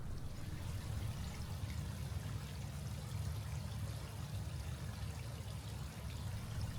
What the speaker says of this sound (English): there's a bench and a small waterfall, which in mid-November wasn't doing much but dribbling